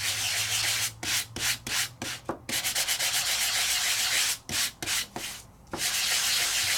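Sandpaper rubbed back and forth across a raised embossing folder's highs and lows, a close, steady rasping broken by brief pauses as the folder is turned.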